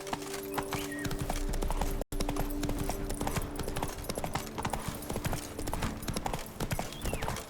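Roach, a horse in The Witcher 3, trots with a steady clip-clop of hooves over ambient game noise, close and fairly loud, with a momentary dropout early on.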